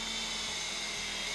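A power drill drives a hidden deck screw into a deck board with a camo bit, a steady high whine running close and continuous through the whole short burst.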